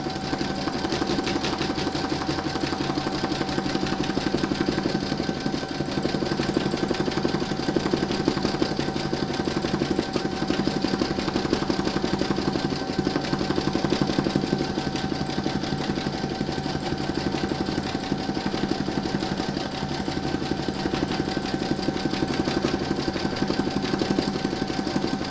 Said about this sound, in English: I'm just going to pop my hoop into my machine and stitch round number 1